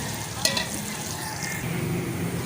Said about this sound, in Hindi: तो प्याज हमारे गोल्डन ब्राउन हो चुके हैं।